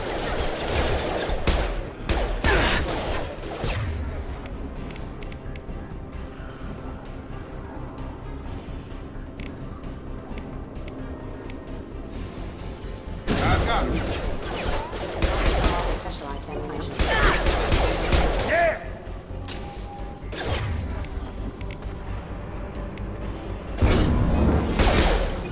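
Combat in the video game Mass Effect 2 on a station, with bursts of rapid gunfire and impacts in clusters separated by quieter stretches of ambient hum, loud and close.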